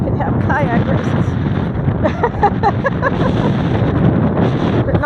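Gale force wind buffeting the microphone outdoors near kayaks on water, a steady heavy roar through the whole stretch, with people talking under it.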